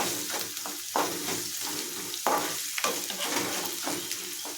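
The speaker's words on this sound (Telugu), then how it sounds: "ఇవి బాగా వేగాలి. 10 నిమిషాలైనా వేగితే బాగుంటుంది." Brinjal frying in a pan for vankaya barbati curry: a continuous close sizzle with rhythmic stirring strokes scraping across the pan about once a second.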